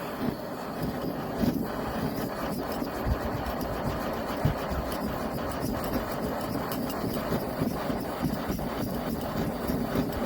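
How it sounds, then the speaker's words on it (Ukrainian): A steady, broadband roar of a SOTO Micro Regulator gas camping stove burner turned fully up, continuous and fairly loud with faint crackling throughout. "Зараз відкрию на максимальну потужність."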